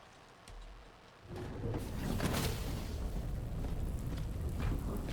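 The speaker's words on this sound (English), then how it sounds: "Why is it raining in here?" Rain falling indoors in the video game Death Stranding 2 starts after about a second of quiet, with a faint low rumble, then builds into a steady, loud, dense wash of falling water that holds to the end.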